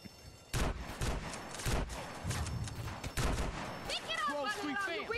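Gunfire in GTA San Andreas Definitive Edition: loud, rapid bursts of shots cracking near and close together over several seconds, with talk running under the gameplay.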